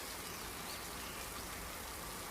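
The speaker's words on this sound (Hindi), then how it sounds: "मैं बरसात में भीग रहा हूँ।" Steady rain pours in a cartoon scene, a dense, even hiss of falling water with no voices, holding constant throughout.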